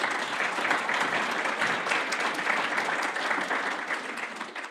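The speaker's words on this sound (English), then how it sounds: "we should give her a round of applause" Audience at a Rotary meeting breaks into sustained applause, a dense wash of many hands clapping steadily for several seconds with no voices.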